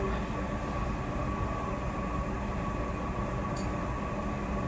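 A passenger train runs through the Swiss mountains, heard from inside as a steady rumbling roar with rolling wheel noise and a couple of faint squeaks, continuous and close, with no speech.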